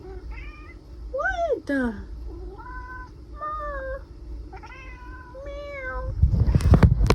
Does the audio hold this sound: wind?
no